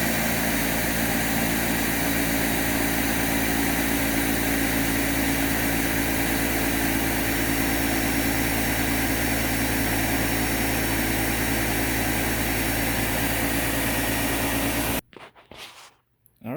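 A Dyson UP20 Animal 2 upright vacuum runs with both motors, a loud, steady, high-pitched whirring drone that holds unchanged for about fifteen seconds before abruptly cutting off into near silence.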